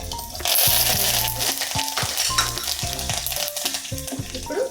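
Cumin seeds and urad dal tempering in hot oil with garlic and mustard seeds, a continuous crackling sizzle with light stirring and occasional scrapes against the pan.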